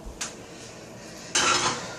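A ceramic coffee mug is set down and handled beside a vintage Cory vacuum coffee pot. Two short, close clinks occur, with the second sharper and louder, and there is no talking.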